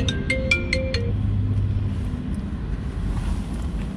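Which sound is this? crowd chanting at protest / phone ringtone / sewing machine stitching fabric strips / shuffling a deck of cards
phone ringtone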